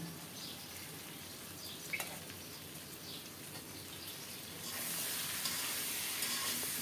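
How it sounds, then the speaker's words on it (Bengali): Potatoes and a large rohu fish head sauté with spices in oil, giving a quiet, steady sizzle that grows brighter and more intense toward the end, with no one talking. "মশলার সাথে আলু আর মাছের মাথা আরও একটু কষিয়ে নিচ্ছি"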